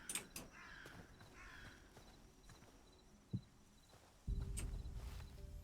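Crow cawing in the video game Hytale, a few short faint calls over quiet ambient game sound, followed near the end by a louder low rumble.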